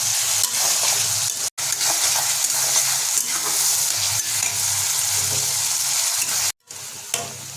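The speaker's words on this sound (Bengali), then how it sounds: "আমরা 3 মিনিট ধরে পেঁয়াজগুলোকে ভাজা করে নিয়েছি" Sliced onions sizzle steadily in a pan (kadai) over a low flame with half a tablespoon of salt, while a spatula scrapes and stirs close and loud throughout, broken by two brief gaps.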